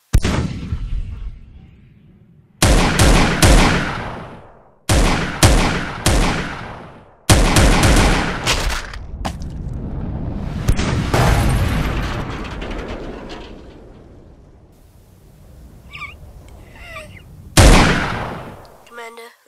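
A Lego Clone Wars battle erupts with sharp gunshot blasts and booming explosions that hit in sudden, loud bursts. Each one fades out, and rumbling stretches run between them.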